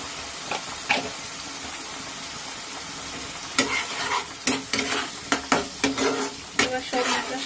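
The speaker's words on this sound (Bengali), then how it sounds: "এবার সব মশলার সাথে নুন আর হলুদ মিশিয়ে ভালো করে কষিয়ে নেব।" A spice paste with salt and turmeric sizzles in a pan for a Bengali potol dish, faint frying at first, then a run of sharp, rhythmic scraping stirs against the pan.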